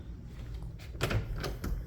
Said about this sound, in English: Tiny door.